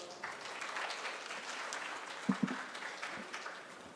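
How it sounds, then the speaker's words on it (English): An audience at a stage event claps steadily throughout, moderately distant, with a few sharper claps and a faint voice near the middle. "A big round of applause for her."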